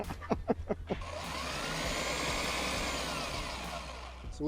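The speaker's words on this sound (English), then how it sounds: "So we're going to drill a pilot hole." A handheld power drill boring a pilot hole into the roof of a new Toyota 4Runner for a roof rack install, preceded by a few quick clicks, then a steady whining bore lasting several seconds, close and moderately loud.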